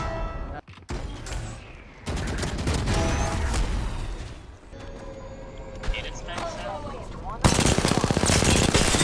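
Video game gunfire comes in bursts of rapid shots and heavier cracks, loud and close, cutting in and out between shifting background sounds.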